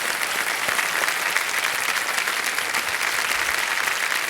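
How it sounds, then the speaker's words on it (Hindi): Studio audience applause on a television quiz show set, a strong continuous roar of many clapping hands, even and sustained, with no one speaking. "और ताली बज जाए जोरदार"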